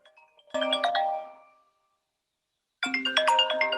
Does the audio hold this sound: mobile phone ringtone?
yes